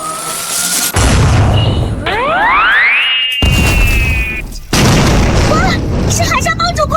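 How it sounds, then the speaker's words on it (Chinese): An animated-series blast aimed at a ship at sea, with booming explosion bursts and rising whooshing effects packed together, loud and close, mixed with a voice shouting over the action. "给我轰碎那艘破船！"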